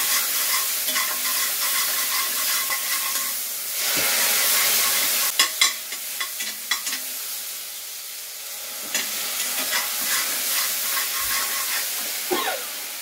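An ingredient goes into sugar melted in a pan for an egg chochchori, and it fries with a loud, steady hiss. Repeated stirring and scraping clatter close by, with a few sharp knocks against the pan.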